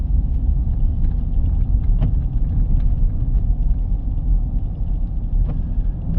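A car drives along a countryside road in Western Appalachia on a rainy day, giving a steady, loud low engine and road rumble that continues throughout.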